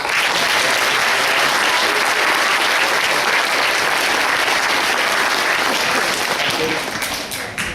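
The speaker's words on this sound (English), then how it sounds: "Round of applause for John." Loud, sustained applause from a large crowd at a sports awards presentation, dense clapping filling the whole stretch before easing slightly near the end.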